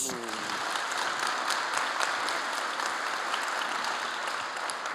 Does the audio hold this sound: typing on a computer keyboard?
no